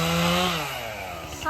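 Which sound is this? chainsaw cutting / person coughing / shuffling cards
chainsaw cutting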